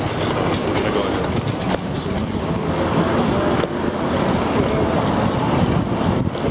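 A Q60 city bus rolls past on a city street with a loud, steady roar and rattling, close by throughout, heard from a bike ride with no talk over it.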